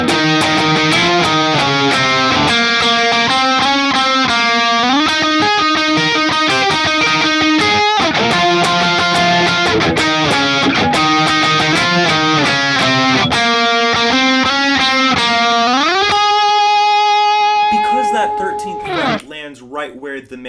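An electric guitar plays the solo from a song as a continuous run of distorted notes with slides up the neck, ending on sustained notes that fade out.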